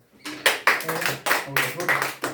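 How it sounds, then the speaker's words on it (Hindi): Students in a classroom clapping for a classmate's correct answer, a burst of about eight uneven loud claps spread over two seconds, no talk over it. "वेरी गुड, ताली बजाइए इसके लिए"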